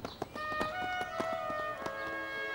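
Horse hooves clip-clop in a steady rhythm of sharp, evenly spaced knocks, moderately close and accompanied by soft sustained music.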